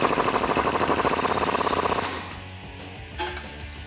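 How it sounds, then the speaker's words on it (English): Sway bar end link bolt on a Jeep Wrangler JK 4-door being run tight with an 18mm socket and wrench: a fast, steady mechanical rattle for about two seconds, then stopping, with a couple of faint clicks after. "tightening that up with an 18mm socket and wrench"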